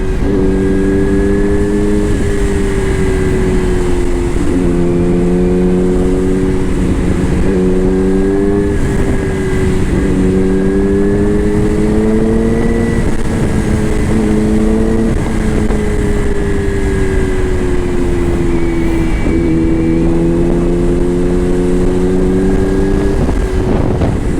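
A motorcycle ridden with a camera mounted on the helmet: a steady engine drone that rises and falls with each gear change, under constant heavy wind rush, loud and continuous with no voices.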